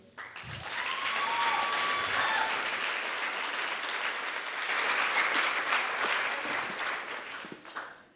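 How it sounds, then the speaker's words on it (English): An audience at a Dairy Festival scholarship pageant bursts into sustained applause, a thick crowd of clapping that swells quickly, holds steady for several seconds, then tapers off. "Give another round of applause."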